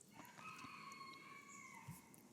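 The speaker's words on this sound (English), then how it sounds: "You can probably hear those chickens in the background doing their thing." Chickens cluck and a rooster crows in the distance outdoors, a faint long crowing call stretching across the clip with scattered clucks, quiet and alone.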